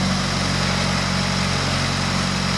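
A small Subaru car engine runs steadily at idle, close and loud, with a constant low rumble and no talk.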